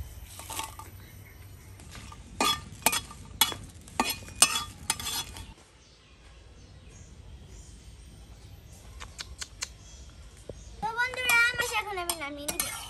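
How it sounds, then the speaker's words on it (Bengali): Chilies fry in a pan with a soft, faint sizzle, broken by clinking and scraping of a utensil stirring against the metal. A voice briefly rises near the end. "এখন আমি মরিচগুলো ভেজে নিব"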